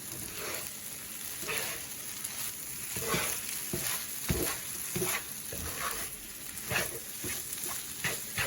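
German stirrum batter stirred and frying in a nonstick hex pan, a steady soft sizzle with repeated scraping, tapping stirring strokes close by, no talk.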